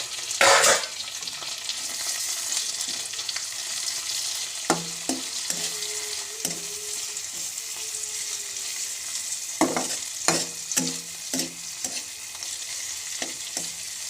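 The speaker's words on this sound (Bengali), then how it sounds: "চাপাটি দিয়ে একটু ভাজবো।" Chapa dried fish frying in a pan with a spatula, a steady close sizzle of oil under repeated scraping and stirring strokes, no talk.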